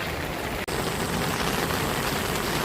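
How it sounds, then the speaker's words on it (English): Light drizzle on a wet day outdoors, a steady broad hiss of fine rain falling on surfaces, even and continuous with no voices. "it is a slight drizzle"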